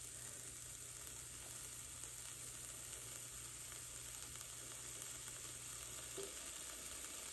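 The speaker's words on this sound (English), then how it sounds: "I'm cooking this in a cast iron skillet" Bacon frying in a cast iron skillet gives a steady, quiet sizzle with a soft crackle, fairly even throughout, with a low hum underneath and no talking.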